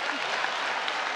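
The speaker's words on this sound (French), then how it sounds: "Applaudissez s'il vous plaît." Brief, continuous crowd applause for comedians Christian and Saloni at an Abidjan stand-up comedy show, a steady even patter of many hands at moderate volume.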